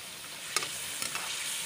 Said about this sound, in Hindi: ये चिकन फ्राई कर रही हूँ।